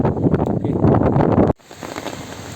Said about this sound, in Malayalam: നല്ല കാറ്റുണ്ട്